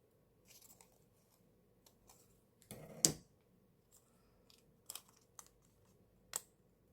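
A paper template for a pocket notebook with ring binding is being cut, giving quiet scattered snips and rustles with one louder burst of crunching paper near the middle, close and otherwise quiet.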